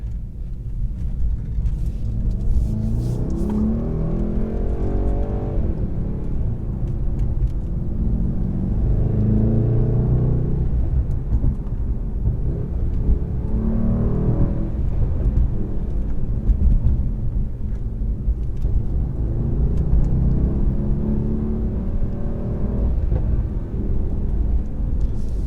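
A 2019 Mercedes-AMG E63 S sedan's loud exhaust in Sport Plus or Race mode rumbles and swells in waves throughout, deep burbling, crackling and backfiring as the engine revs rise and fall.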